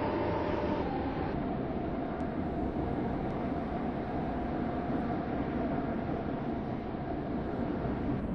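Steady rumbling train noise with a constant broadband roar, like a carriage idling or rolling at a platform, at a station in a Stepford County Railway video game, no voices.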